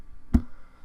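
Phone camera shutter snap while taking a picture in a podcast setting: a single short click near the middle, moderately loud against a quiet background.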